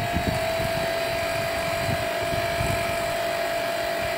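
A propeller painted white on only one half spins at about 3000 RPM, giving a steady, continuous whirring drone with a sustained hum tone, even and unbroken throughout.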